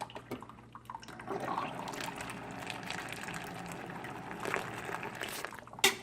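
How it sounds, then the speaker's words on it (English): Hot water poured from a hot water dispenser onto tsampa, a steady liquid pour and trickle lasting several seconds at close range, ending with a brief clatter. "Now I'm going to add hot water to it and mix."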